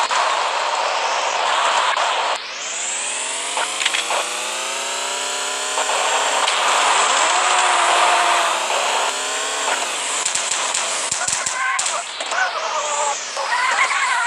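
A car drives in the Payback 2 video game, its engine tone climbing and shifting steadily as it accelerates, loud and continuous with a busy synthetic whine and brief clatters near the end.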